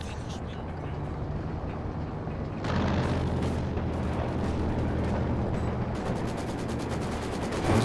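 Supporting artillery fire in a real-time strategy battle with a Panzer IV and a ZIS gun, a continuous rumble of distant booms and blasts that swells louder partway through, with a commentator talking over it.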